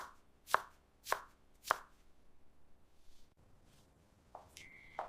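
Fresh coriander chopped with a knife in a village kitchen: three sharp, evenly spaced chops close by, then a quiet pause, then a brief tonal ping near the end.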